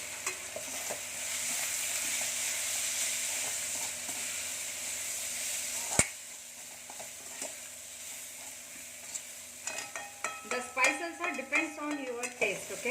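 Capsicum rice with red chili and coriander powder being stirred in a pan, a faint sizzle under soft scraping, then a sharp clack followed by a run of quick spoon scrapes and taps toward the end.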